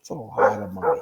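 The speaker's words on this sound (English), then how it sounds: "that's our neighbor's dog." A neighbor's dog barks twice, a loud yap near the middle and another near the end, while a person keeps talking over it.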